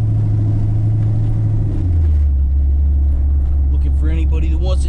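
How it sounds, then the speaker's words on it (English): A C4 Corvette with a large engine cruises through town, its deep rumble loud and close, with a low tone that drops as the car shifts gears. "We're just cruising through town right now."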